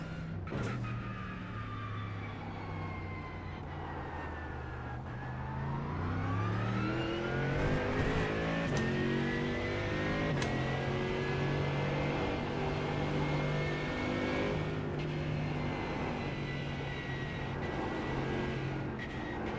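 A GT3 race car engine in a racing video game at Suzuka revs and shifts continuously, rising and falling pitch through gear changes, loud and close throughout with no talking.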